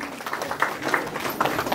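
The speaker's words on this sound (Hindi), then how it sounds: "तालियों के साथ इनको भी धन्यवाद देते हैं" Guests at an engagement ceremony applaud in a soft, steady patter of clapping, fairly distant and low in level, with faint crowd murmur mixed in.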